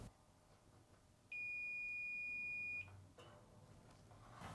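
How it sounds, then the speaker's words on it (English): A multimeter continuity test on a Samsung dryer heating element gives a single steady high-pitched electronic beep lasting about one and a half seconds, loud and clear against quiet background handling noise. "You should hear a beep when placing the probes on each of the heating element's terminals."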